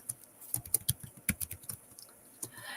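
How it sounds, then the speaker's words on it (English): Fingers type on a computer keyboard in irregular bursts of sharp, close clicks and taps, pausing briefly between runs of keystrokes in an otherwise quiet room. "So now I'm just typing out names onto the thing."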